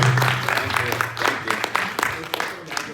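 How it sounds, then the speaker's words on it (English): Applause for a senator at the ALJA General Assembly 2022, a brief burst of clapping from a seated audience in a hall, distinct individual claps rising and fading within a few seconds. "Can we give the senator a big hand clap?"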